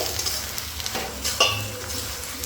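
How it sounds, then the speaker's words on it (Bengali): Jujubes being stirred with jaggery in a pan for a pickle, soft scraping strokes and a light sizzle, close and moderate, with one sharper clink partway through. "এবারে গুড়ের সঙ্গে এই কুলগুলো ভালো করে মিশিয়ে দিয়ে"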